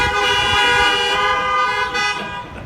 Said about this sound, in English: If you'd rather be here than in jail, honk your horn.